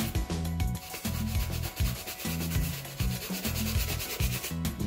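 A horsehair-style Edoya brush sweeping briskly over Crockett & Jones leather shoes, close rhythmic back-and-forth rubbing strokes in quick repeated bursts with no voice over them.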